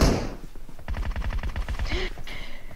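An M1014 shotgun fires in rapid rhythmic succession in PUBG Mobile arena combat, a dense burst of close shots over continuous battle noise, with a brief tonal game sound near the end.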